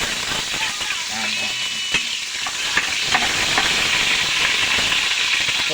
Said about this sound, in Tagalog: ginigisa natin ang ating bawang